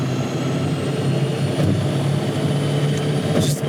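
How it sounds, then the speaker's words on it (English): Constant low droning road and engine noise heard from inside a Czinger V Max supercar, a steady loud rumble with a faint whine rising near the end. "There's a lot of road noise"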